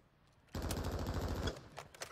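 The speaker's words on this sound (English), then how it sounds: "Getting shot, man." Burst of rapid automatic gunfire in a battle-royale video game match, loud and dense for about a second before cutting off, with faint game noise after.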